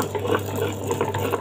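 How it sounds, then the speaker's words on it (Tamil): A wet grinder grinds soaked rice together with jackfruit seed paste into dosa batter, giving a steady, close mechanical hum with a sloshing wet churn that continues without a break. "பாருங்கள், அரிசி அரைஞ்சிட்ருக்கு."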